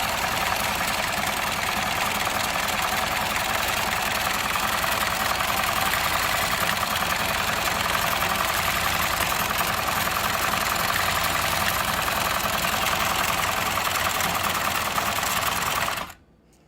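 An industrial upholstery sewing machine built for thick material, running at a steady fast clip with a dense, continuous mechanical stitching chatter, loud and close, until it stops abruptly near the end.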